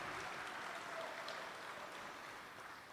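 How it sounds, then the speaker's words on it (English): Applause from an audience at an apprenticeship graduation ceremony, a steady, dense wash of clapping that holds for the whole stretch and fades only slightly toward the end. "round of applause one more time for Julieta"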